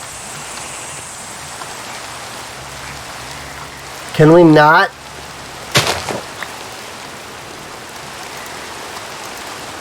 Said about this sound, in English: Oh my god, with the rain though.